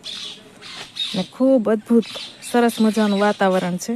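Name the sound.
birds chirping around a lake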